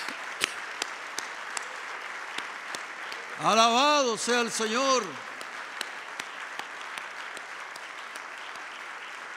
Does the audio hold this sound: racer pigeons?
no